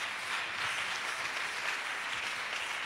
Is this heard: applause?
yes